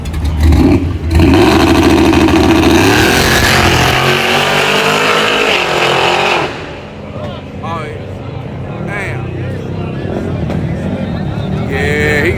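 A race car engine at a race track runs loud and close, surging and revving in strong bursts before settling into a rougher, quieter idle, with people talking over it.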